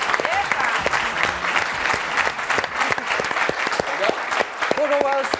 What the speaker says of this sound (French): Vous pouvez les accueillir sur ce plateau et les applaudir.